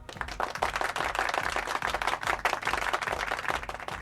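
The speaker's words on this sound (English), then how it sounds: "He gets a round of applause." A crowd at a basketball game gives a round of applause, steady dense clapping at fairly close range for a few seconds with no talk.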